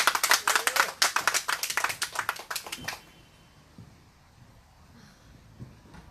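A small group gives a quick burst of clapping for a performer coming onstage at an outdoor candlelight gathering in Seongju, the claps sharp and fairly near for about three seconds before fading into quiet ambience.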